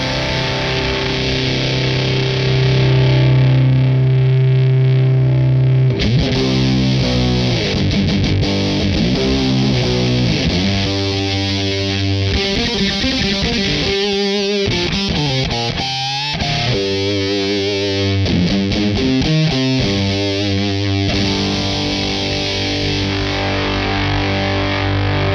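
Electric guitar played through a Jacques Mercer Box fuzz distortion pedal, a loud sustained distorted chord opening into a run of saturated riffs and bending notes, alone with no voices.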